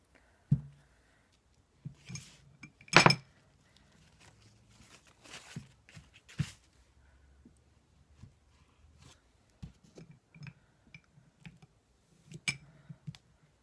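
Lavender lemongrass soap bars are cut with a cheap cutter in a quiet room, giving sparse isolated clicks and soft thuds, with one sharper clack and faint scraping between cuts.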